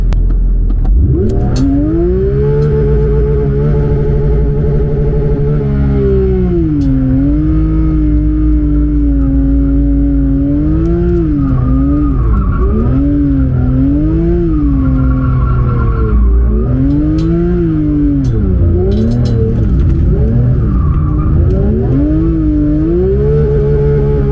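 A loud Porsche 992 GT3 engine revs hard again and again during donuts, bouncing against its limiter in sustained, stuttering bursts for a long stretch.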